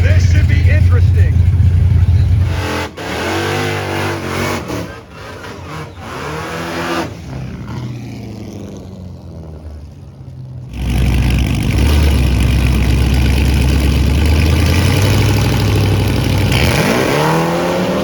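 A Dodge Demon and a Viper at a drag race at Dodge's 2023 Roadkill Nights, loud engines revving and launching with rising and falling tones, then a roaring pass, with a crowd and voices mixed in.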